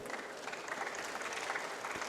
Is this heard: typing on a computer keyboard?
no